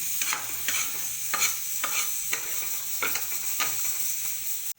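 Vegetables frying in a pan, a steady bright sizzle punctuated by regular scraping stirs of a spatula, close and clear with no talk, ending abruptly.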